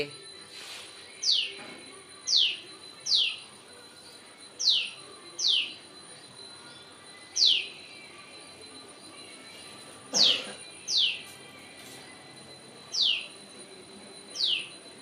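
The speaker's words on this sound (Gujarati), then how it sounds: "આપણા ઘેરે નાની એટલી ચકલી આવી છે." A small bird, like a house sparrow, gives about eleven short, bright chirps at uneven intervals over a quiet background.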